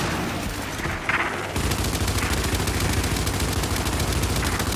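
Rapid gunfire in Gears 5 starts after a brief lull, with dense, evenly spaced shots rattling on steadily and fairly loud.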